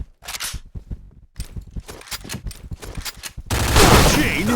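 Rapid gunfire in a shooting video game: bursts of sharp shots in quick succession with brief pauses, then a dense loud blast of firing at the end, with an excited voice calling out over the action.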